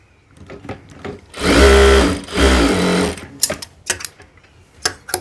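Sewing machine stitching a pant seam, running in two loud, close bursts of rapid even whirring separated by a short pause, then a few clicks and light handling noises.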